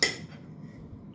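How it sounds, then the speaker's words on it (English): A knife cuts a breakfast sandwich in half on a plate, opening with one sharp metallic clink against the dish and then a short, faint scrape as the blade finishes the cut. "Cut it in half with a knife."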